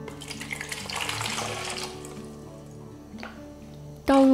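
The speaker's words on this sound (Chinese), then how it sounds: "倒入纯净水、白醋，当然你也可以用陈醋、白糖、生抽" Purified water and white vinegar poured over salted, drained radish for pickling, a steady splashing rush for about two seconds that thins into fainter trickles and drips, ending with a sharp clatter.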